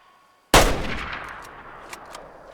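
A single loud rifle shot from a 700 CDL fired at a feral goat in the Way of the Hunter hunting game, sharp and close, then a long fading echo with faint clicks afterward.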